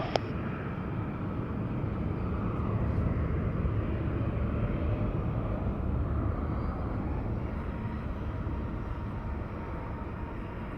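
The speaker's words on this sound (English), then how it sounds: "Southwest 1931 heading to San Jose this morning. Boeing 738." A Southwest Airlines Boeing 737-800 at San Diego airport, bound for San Jose, gives off a continuous broad jet roar, steady and fairly close, holding its level throughout without talk.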